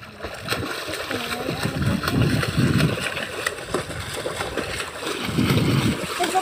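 People splash and bathe in beach water alongside water buffalo in Daanbantayan, Cebu, with loud sloshing and splattering in bursts, and voices talking over the water noise.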